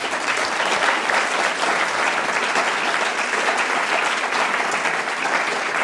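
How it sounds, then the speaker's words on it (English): Sustained, dense audience applause after an on-stage conversation with an investigative reporter, loud and even throughout with no voices standing out. "I'm going to invite some more applause in a moment"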